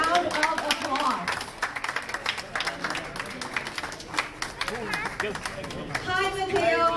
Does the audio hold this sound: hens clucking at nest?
no